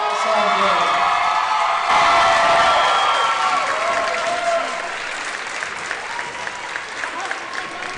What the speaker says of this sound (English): I want one more round of applause for Maddie Klein for her last home